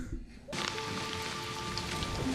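Steady rain suddenly sweeps in and keeps falling as a dense, even hiss, loud and close, with a faint low tone humming underneath.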